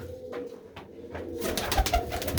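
Pigeons coo close by in low, soft repeated calls, joined halfway through by brighter rustling and flutter-like noise.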